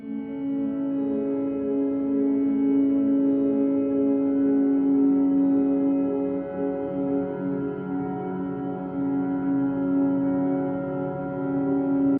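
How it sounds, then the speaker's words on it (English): A sustained piano chord run through two big reverbs swims in a thick, washy reverb, its tone blurred into a steady, loud sustained wash for the whole stretch, with no voices. "and now our piano should sound like this"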